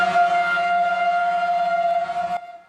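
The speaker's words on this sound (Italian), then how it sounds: "I clacson suonano come una sirena di speranza." A car horn sounds in a single long, steady blare for over two seconds, then cuts off abruptly, as water tankers arrive in Ravanusa, Sicily, during a water shortage emergency.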